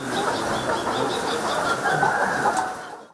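Laying hens cluck steadily in a short repeating rhythm, several birds close by on a poultry farm, with no talking.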